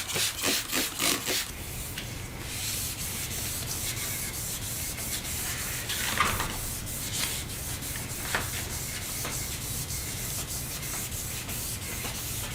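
Steady, continuous scratchy rubbing of fine-grit sandpaper, 800 to 2000, wet sanding a foggy plastic headlight on a 2007 Toyota 4Runner, close and even throughout with a few quick strokes at the start.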